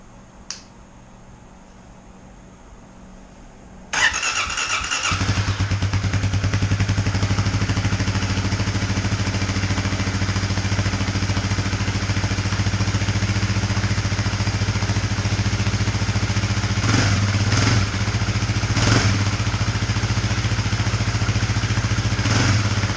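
A 2018 Kawasaki KLX 250 motorcycle with its stock exhaust starts up after a few quiet seconds, then settles into a loud, steady idle with a low drone and a couple of brief revs near the end.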